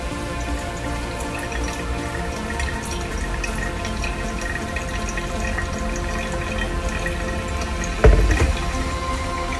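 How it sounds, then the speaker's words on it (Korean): Hot water at 96 degrees poured in a steady stream over ground coffee in a Hario V60 pour-over dripper, a continuous trickling and splashing throughout with a brief louder splash near the end; no talking. "1차에는 90g의 물을 부어줍니다."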